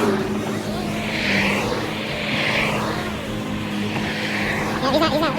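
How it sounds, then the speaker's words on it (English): Cars drive past on a residential street near a tree-trimming job with a bucket truck, several vehicles swooshing by one after another in smooth rising and fading waves, fairly close and steady. "There's too many cars coming."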